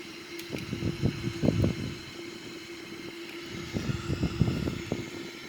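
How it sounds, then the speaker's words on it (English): Left engine of a Boeing 787-900ER spooling up during start from the cockpit, with the right engine already running; a steady low rumble and whine with rhythmic pulsing bursts, moderately loud and close, no talk. "So we can start now the left engine."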